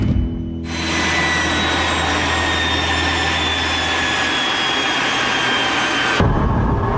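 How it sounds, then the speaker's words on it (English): The first Firebird, a turbine-powered prototype car, runs with a loud, steady jet-like roar and a high whine that start abruptly, hold evenly for several seconds, then cut off, with nothing else heard. "As a prototype for a turbine-powered car, the first Firebird was a rousing success."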